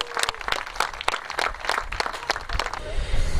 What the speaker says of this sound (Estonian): Kõva aplaus neile.